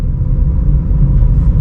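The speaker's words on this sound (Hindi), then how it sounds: "देखो चल रही है सेकंड गियर में गाड़ी।" A car rolls along in second gear while driving in traffic, its engine a loud, steady low rumble heard from inside the cabin, constant throughout with no talking.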